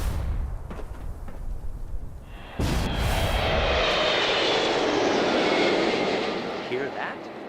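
A propeller airplane engine in the Fallout 76 video game swells from a low rumble into a loud, sustained drone that peaks midway and stays steady before easing slightly, heard as a radio ad for an airline.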